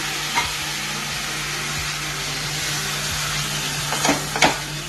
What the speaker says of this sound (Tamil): இப்படி இதை வணக்கி விட்டுட்டே இருங்க ஒரு 5 minutes